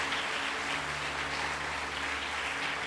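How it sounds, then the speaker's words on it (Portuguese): A church congregation applauding, a steady, dense wash of clapping that holds at an even level throughout without pause. "Vamos aplaudir a Jesus"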